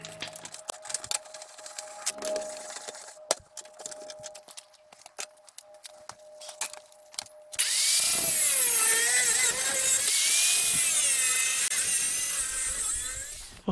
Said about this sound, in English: Hearing protection, eye protection, angle grinder.